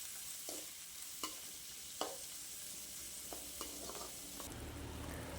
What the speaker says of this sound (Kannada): ತುಪ್ಪ ಬಿಸಿಯಾದ ನಂತರ 1 ಕಪ್ ಈರುಳ್ಳಿ ಹಾಕಿ ಫ್ರೈ ಮಾಡುವ.